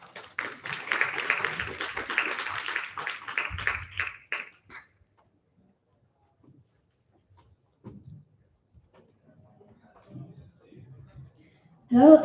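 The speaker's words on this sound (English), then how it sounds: "Let's give them a round of applause," A conference audience gives a brief round of applause, dense clapping for about four seconds that cuts off abruptly, followed by near silence with faint shuffles and a voice starting at the very end.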